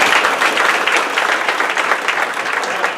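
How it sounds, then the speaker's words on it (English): An audience at a business gathering breaks into sustained applause, a dense, even wash of many hands clapping close by for the whole stretch. "Please give him a round of applause."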